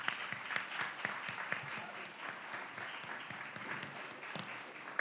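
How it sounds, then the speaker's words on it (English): An audience at a policy competition final applauds the competitors, giving a steady, distant wash of clapping that holds for several seconds. "Give them a round of applause"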